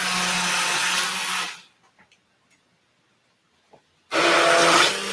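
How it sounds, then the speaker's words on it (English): An immersion blender whirring through a sauce, a loud dense buzz that runs, cuts out for a few seconds of near silence with faint clicks, then starts again at full strength. "So now I'm going to take my immersion blender."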